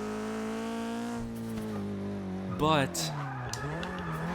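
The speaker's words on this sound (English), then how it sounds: "It's been a while since I've practiced drifting in this game." A Nissan 240SX drifting in Forza Motorsport 6, its engine droning steadily before a short sharp tire squeal cuts in mid-slide, followed by shifting engine pitch as the car recovers, with someone talking over it.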